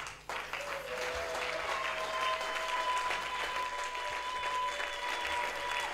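A church congregation applauds during a sermon, steady, sustained clapping from many hands filling the room throughout, with a faint tonal hum running beneath.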